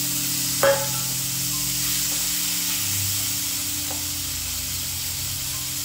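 Tomato, two garlic cloves and onion dropped into hot oil in a pan, sizzling and hissing steadily throughout with a short clatter near the start.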